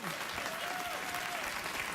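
A late-night television studio audience claps in a dense, even burst of applause, loud and continuous, while a voice speaks over it.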